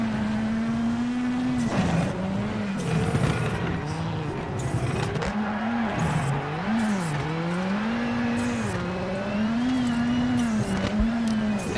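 A WRC rally car in WRC 7 on a stage of Rally France, engine revving and dipping as it brakes and accelerates through corners, with scraping skids and tire noise, close and loud with no talk.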